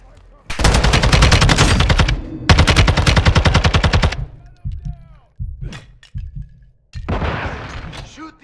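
Video game gunfire from Call of Duty: Modern Warfare II, two long loud bursts of automatic fire followed by several single shots and a final short burst, close and dominant.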